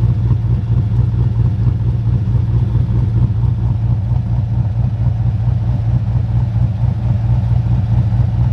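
LS1 V8 car with a street cam driving, a loud, steady, choppy low engine rumble throughout, with a brief spoken word.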